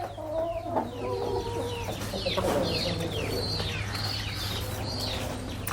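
Roosters and hens on a poultry farm, clucking close by with several crowing calls rising and falling in sequence over a steady low hum.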